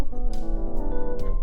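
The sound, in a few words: electric piano software instrument plugin in Logic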